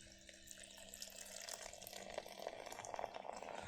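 A drink is poured over ice in a steady, soft stream that is quiet and close, with a faint trickle and no talking.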